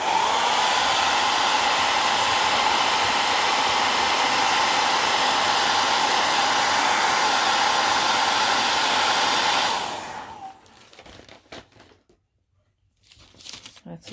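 A hair dryer blows steadily and loud for about ten seconds to dry craft paint on chipboard shapes, then switches off, leaving faint handling sounds.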